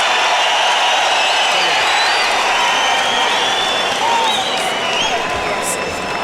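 An arena crowd in Canada roars and applauds during a UFC fight, a loud continuous wall of cheering and clapping with a commentator talking over it.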